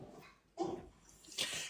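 A puppy gives a couple of short, faint whimpering cries, with small soft sounds between them.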